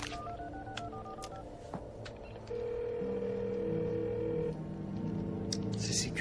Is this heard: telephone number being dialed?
yes